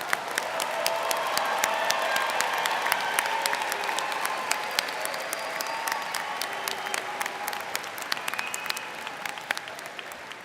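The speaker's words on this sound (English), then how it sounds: "How about a big round of applause for our students with a graduate degree today?" A commencement audience applauds graduate-degree students at a College of Business ceremony: dense, steady clapping from a large crowd that holds for about ten seconds at even volume before thinning slightly toward the end.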